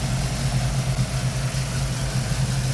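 A custom car engine idles with its radiator fan running, a steady close low-pitched rumble with a lumpy pulse under a constant whirring hiss, no voices.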